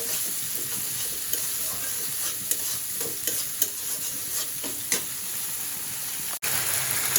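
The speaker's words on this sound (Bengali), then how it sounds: "এখন মশলাটাকে সুন্দর মতো আস্তে আস্তে কষিয়ে নেব" A spice paste with green chili being stirred and sautéed in a pan, steady sizzling broken by repeated scraping strokes and light taps, close and clear, with no speech.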